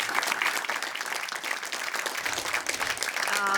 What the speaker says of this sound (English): round of applause, please, for your Isuzu Goalkeeper of the Year